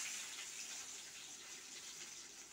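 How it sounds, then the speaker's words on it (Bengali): Sugar syrup left over from sweets is poured into a pot for a koromcha pickle, giving a steady, soft liquid pour that runs on without a break and fades slightly toward the end. "শিরাটা আমি ঢেলে দিচ্ছি"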